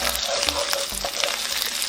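Garlic and chili paste fry in a pan for nasi goreng, a loud, close, continuous sizzle with stirring scrapes coming through in a steady rhythm.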